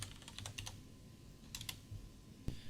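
Quick, quiet keystrokes on a computer keyboard as a layer name is typed, a short burst of taps, a pause, then a few more taps and one firmer click.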